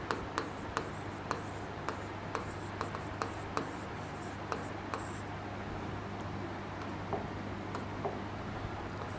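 Pen strokes and light taps of writing labels onto a hand-drawn biology diagram of a kidney nephron, a quiet steady series of short scratches and ticks over a low constant hum.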